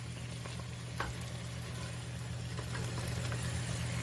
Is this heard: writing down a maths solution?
no